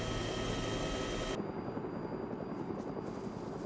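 A helicopter in the video game DayZ, a loud rotor and engine roar with whining tones that cuts abruptly to a quieter, duller hum partway through.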